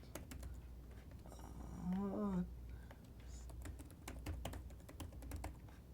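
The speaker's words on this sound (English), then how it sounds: "Go ahead and type in your password." Fingers type a password on a computer keyboard, a quick run of light, uneven clicks close by, with people talking over and between the keystrokes.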